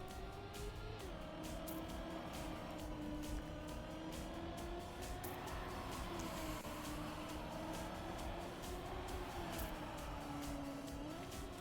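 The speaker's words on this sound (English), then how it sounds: "you could hear his car howling up there" Race car engine howling in the Trackmania racing game, a steady loud drone with shifting pitch and rev changes running continuously throughout, with no talk over it.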